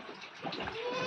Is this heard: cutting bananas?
no